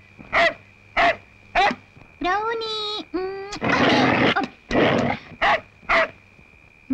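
A dog barks in short, spaced yelps with whimpering, whiny vocal sounds between them, set in a Telugu film scene (Kondaveeti Dada), close and fairly loud with someone speaking around it.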